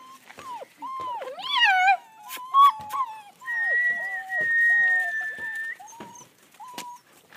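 A long-coated wolf sable German shepherd puppy whines and whimpers in high, wavering cries, with brief yelps and a sustained squeal, heard close with some faint background voices and knocks.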